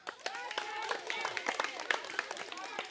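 Spectators at village game races clap in uneven bursts while excited voices and shouting run over and between the claps, all fairly close.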